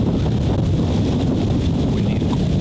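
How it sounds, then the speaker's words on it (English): Steady wind buffets the microphone outdoors in cold weather while walking in to a food plot for deer hunting, a continuous broadband rush with no clear gusts or breaks. "Windy and cold."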